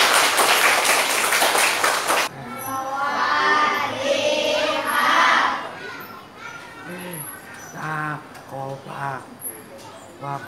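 Schoolchildren at a Thai temple school clap for an elderly man who sold brooms to fund their meals, a brisk burst of applause that stops after a couple of seconds, followed by children's chatter and voices nearby.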